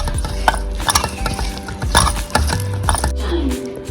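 Fish pieces being mixed by hand or spoon with rice flour and salt for an anjal (seer fish) fry, giving close, irregular scraping and clicking stirs with soft thuds, steady and busy throughout, with no talking.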